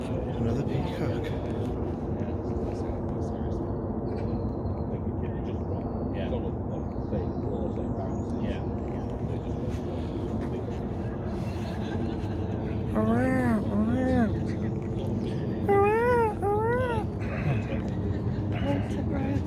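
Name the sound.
peacock calling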